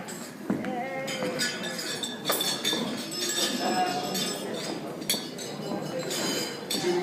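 Wedding guests clinking glasses together for a toast, scattered bright chinks ringing out over crowd murmur and voices in a busy room.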